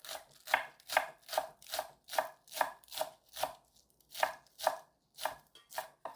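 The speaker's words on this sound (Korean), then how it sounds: "잎은 다른 데다 쓰고 흰 부분 쪽으로 송송 썰어줍니다." Knife slicing the white stems of young radish on a cutting board, a steady run of crisp, evenly spaced chops, quiet and close, with no voices.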